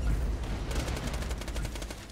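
Automatic gunfire in the video game Borderlands The Pre-Sequel, a rapid string of evenly spaced shots that begins partway through and keeps going steadily to the end, loud and close.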